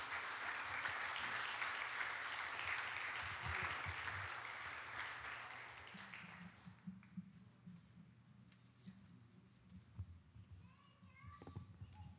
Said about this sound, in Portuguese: Aplaudamos a esse Deus maravilhoso.